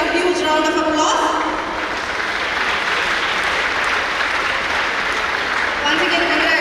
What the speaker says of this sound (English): Let's give all our winners and participants a huge round of applause.